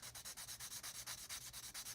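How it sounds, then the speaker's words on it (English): Steady back-and-forth rasp of a fine sanding stick on a hard plastic scale model part, quick even strokes repeating close up with no voices. "So I'm taking a fine sanding stick."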